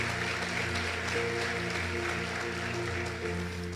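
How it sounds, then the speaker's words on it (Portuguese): A church congregation applauds during a sermon, a dense patter of clapping blended with sustained musical tones that carries on evenly for the whole moment. "Você pode aplaudir a Ele, por favor, o faça com alegria."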